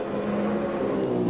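1996 V8 Supercar engine at the Gold Coast race, a steady high-revving drone held near its limit around the street circuit, heard fairly distant and continuous without any speech.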